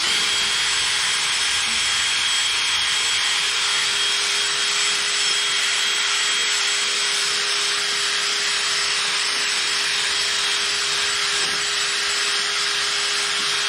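A drill fitted with a sanding pad grinds steadily across the plastic lens of a Mercedes W204 headlight, a continuous close whirring rasp with a steady tone running unbroken for the whole stretch.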